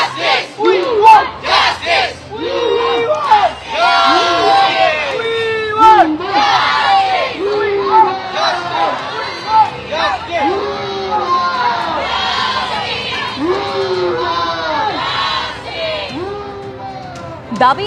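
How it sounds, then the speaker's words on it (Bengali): A protest crowd at an RG Kar rally chants slogans in loud, rhythmic unison, demanding justice. The repeated shouted phrases rise and fall in waves, with general crowd noise behind them. "দেখতেই পাচ্ছ স্লোগান শোনাবো তারা কি বলছে"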